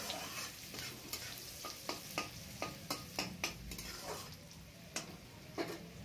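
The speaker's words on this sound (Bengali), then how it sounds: "পেঁয়াজটা একটু লাল লাল করে ভেজে নিতে হবে।" Chopped onion fries in a pan with a steady, close sizzle, and a utensil taps and scrapes the pan in a fairly regular rhythm as it stirs.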